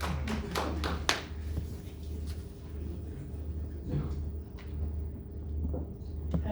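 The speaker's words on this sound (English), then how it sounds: "A round of applause," Scattered hand clapping from a media briefing audience welcoming the board chairperson of the Road Accident Fund, a few sharp claps standing out over a low steady room hum, fairly sparse and brief.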